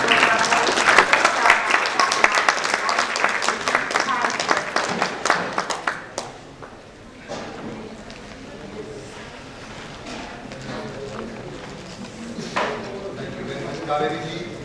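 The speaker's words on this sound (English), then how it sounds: "let's give a warm round of applause as I invite His Excellency the Honorable" Hall applause greets a dignitary at an international NRI congress, a dense burst of clapping for about six seconds that fades into scattered claps as a speaker's voice takes over.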